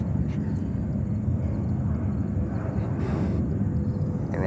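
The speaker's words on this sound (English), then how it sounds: "This is JetBlue coming in from Dublin on a 321 Neo long range" A JetBlue Airbus A321neo long-range jet arriving from Dublin at JFK, a continuous moderate low rumble of engines at a distance, steady throughout with faint hiss above.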